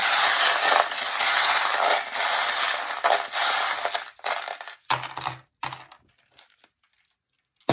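Small divination charms are cast and clink together in a loose metallic jangle and patter, close and fairly loud, then trail off into a few scattered taps before silence.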